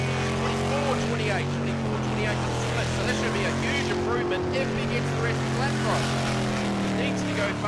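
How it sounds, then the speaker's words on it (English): An Australian V8 Superboat races on water at Cabarita, its engine a loud, continuous drone throughout, with a commentator talking steadily over the top. "the boat sounds and is running better"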